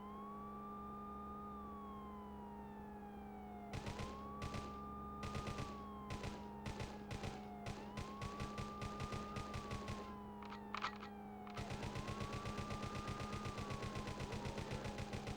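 Bursts of gunfire aimed at a fleeing car in the Worlds Scariest Police Chases video game, sharp repeated shots over a wailing police siren, growing into a steady rapid volley near the end.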